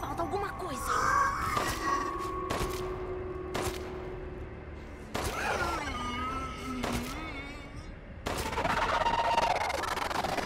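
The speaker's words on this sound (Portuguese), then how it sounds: "Eu consigo acertar melhor os tiros sem mirar." Gunfire in the survival-horror video game Resident Evil Village: Shadows of Rose: several sharp, isolated shots spaced irregularly over a busy backdrop of game music and eerie ambience.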